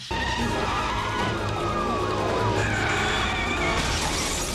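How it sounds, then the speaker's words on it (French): Film car chase from RoboCop 3: sustained loud tyre skidding and engine roar with breaking glass, continuous dense crash-and-screech noise throughout without pause. "Entre les poursuites en bagnole, dignes de celles de la dernière saison d'Eric Hunter,"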